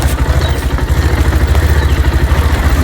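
A motorbike on a rough, narrow off-road trail, its engine thumping in a fast, even low pulse, loud and near, with light rattling over the top.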